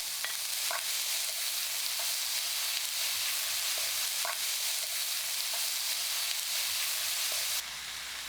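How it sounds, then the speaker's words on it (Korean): Bacon, green onion and paprika stir-frying in a hot pan for bacon fried rice, a steady close sizzle with faint scraping stirs throughout and no talking. "파프리카를 넣고 30초 볶아줍니다."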